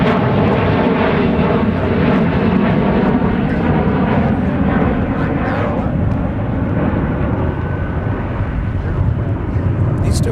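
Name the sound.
diverted jet airplane arriving at MSP airport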